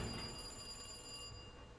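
Telephone ringing inside the Resident Evil 2 Remake game: a steady electronic bell trill that cuts off about two-thirds through, leaving a quiet low game-ambience hum.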